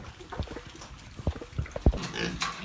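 Piglets on a farm grunt and squeal in short, irregular bursts close by, with shuffling and rustling in the pen between the calls.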